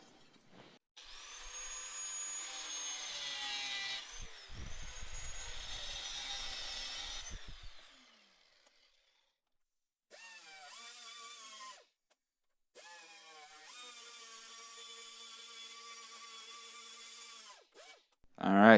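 A high-pitched rotary power tool grinds and rounds off a metal edge on a VW Bug heater box in several bursts separated by pauses, close and fairly loud.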